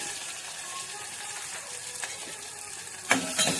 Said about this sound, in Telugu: ఆనియన్స్ కూడా కొంచెం బ్రౌన్ కలర్ వచ్చే వరకు ఇలా ఫ్రై చేసుకుంటూ ఉందాము